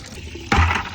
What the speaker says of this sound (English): So y'all see the force of the water?